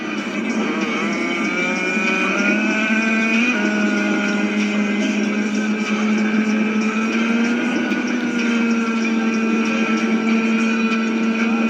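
Motorcycle engine in the video game Riders Republic, revving hard while pushing through snow, a loud continuous buzzing whine that rises and holds high throughout, with no talk.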